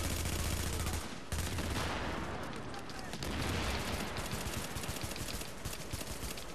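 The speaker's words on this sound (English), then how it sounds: "I'm shooting you with my pistol." Gunfire in the video game The Division crackles in dense, loud bursts of rapid shots, nearly continuous over a noisy snowy battle ambience, with a voice talking among them.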